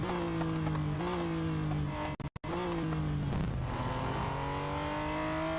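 Race car engine in the Real Racing 3 mobile game, loud and continuous, with a steady droning whine that shifts pitch through gear changes and briefly cuts out for a moment before resuming at full volume.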